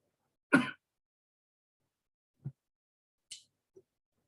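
A single short cough, then a few faint, scattered small noises in an otherwise quiet room.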